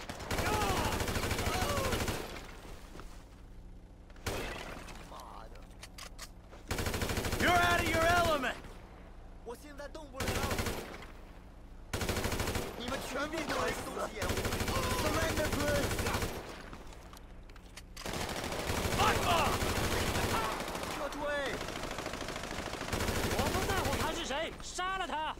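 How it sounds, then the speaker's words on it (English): Bursts of automatic gunfire from the GTA 5 video game, several sustained rapid volleys separated by brief gaps, loud and close, with someone talking over parts of it. "We are shooting you, man."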